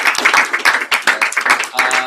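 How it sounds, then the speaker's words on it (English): An audience at a general session claps for a speaker, a short burst of uneven, moderately loud handclaps with some voices mixed in beneath. "Just give her a round of applause."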